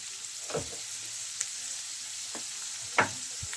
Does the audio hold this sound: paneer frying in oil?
yes